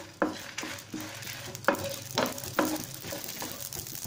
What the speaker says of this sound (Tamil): அடுத்து கசகசா இதெல்லாம் கொஞ்சம் வறுபட்டோன்னா நம்ம தேங்காய் சேர்த்துக்கலாம்